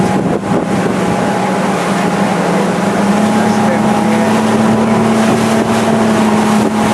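A motorboat transfer ride in the Maldives, with a steady droning engine hum and wind rushing past the microphone throughout, while a voice speaks briefly over the noise.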